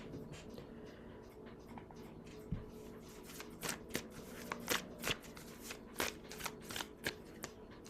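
Tarot cards are shuffled by hand in a close, quiet series of crisp riffling snaps and flicks, growing busier toward the end.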